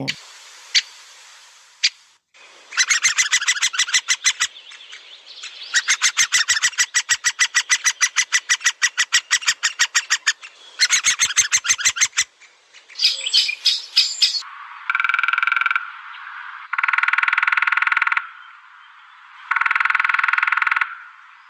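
A resident woodpecker sounds off in a series of rapid rattling bursts, then switches to several longer, harsher, nasal calls, near and loud, with brief silent gaps between phrases.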